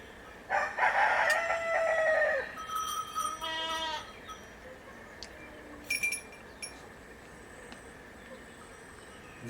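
Young roosters crow in bursts from a Provençal farmyard among young hens, one loud crow early followed by shorter, fainter crows and clucks, with quiet outdoor ambience between.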